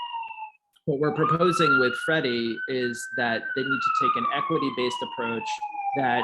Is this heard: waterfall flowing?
no